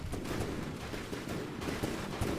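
Warship guns fire at the Sumatra in a naval battle video game, a steady stream of rapid, fairly distant shots rumbling together with no voices.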